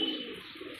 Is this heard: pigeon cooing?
yes